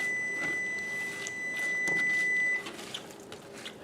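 A kitchen oven's preheat alert gives a steady high electronic tone for a couple of seconds, then cuts off, leaving quiet kitchen clatter behind.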